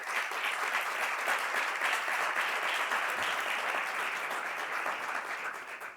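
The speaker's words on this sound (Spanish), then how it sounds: "Vamos a saludar con un fortísimo aplauso en este escenario" An audience applauds at a presentation event in Andalusia, a dense, even clapping from a large crowd that holds steady and then begins to fade at the end.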